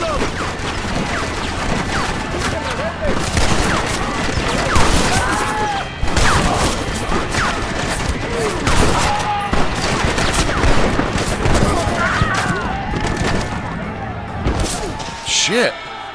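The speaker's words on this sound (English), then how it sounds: "They have a machine gun!" Dense, continuous machine gun fire with scattered crashes fills a Red Dead Redemption gunfight, loud and sustained throughout, with in-game voices mixed in beneath the shooting.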